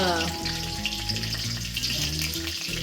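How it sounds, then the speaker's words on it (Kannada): Mustard seeds spluttering and popping in hot oil in a pan, a dense close crackle of rapid pops over a steady sizzle, with no talking. "ಇದೆ, ಸ್ವಲ್ಪ ಸಾಸಿವೆ ಹಾಕ್ಕೊಳ್ಳೋಣ. ಸೊ ನೋಡಿ, ಚಟಪಟ ಇವಾಗ."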